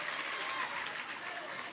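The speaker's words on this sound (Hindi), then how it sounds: "ताली बजाएं इनके लिए।" An audience at a religious gathering in Matihani, Nepal breaks into applause, dense continuous clapping from a crowd sustained throughout, with voices faintly mixed in.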